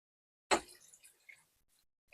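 Water pours with a sudden splash into cooking masala for Lahori kofta curry, followed by wet bubbling and squishing that fades, then a brief second splash at the end.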